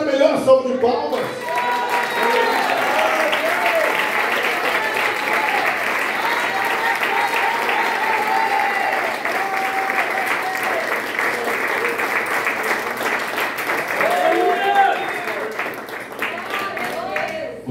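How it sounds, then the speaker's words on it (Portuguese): A church congregation applauding during a worship service, sustained dense clapping from a large crowd lasting well over a quarter minute, with voices murmuring and calling out beneath it. "Vamos dar a melhor salva de palmas."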